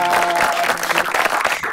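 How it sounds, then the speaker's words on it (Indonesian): Audience applause for UPS Tegal during a talk program, a steady dense wash of clapping filling the short stretch, with tonal hum lines running beneath. "Tepuk tangan untuk UPS Tegal."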